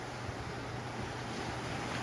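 Sea waves wash steadily along a shore under fair weather, a broad continuous surf hiss with low rumble and some wind noise across the microphone, no voices.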